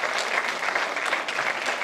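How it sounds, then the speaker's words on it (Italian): Steady applause from a hall audience at the closing awards night of the 2009 Etnaci film festival, a dense, even clapping texture at moderate loudness with no talk over it. "vogliamo fare un applauso"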